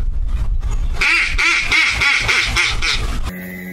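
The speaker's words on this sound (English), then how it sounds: "another kind of a duck call would be the kind you blow into." A hand-held duck call blown by mouth, used for bay duck hunting, sounds a quick run of about seven loud, nasal quacks in steady rhythm, close and alone.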